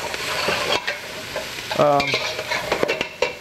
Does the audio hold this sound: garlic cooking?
yes